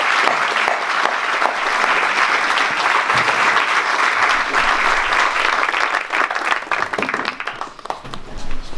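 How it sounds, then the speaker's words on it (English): An audience at a community celebration event applauds in a sustained, dense burst of clapping that thins slightly near the end. "giving them a massive round of applause to thank them"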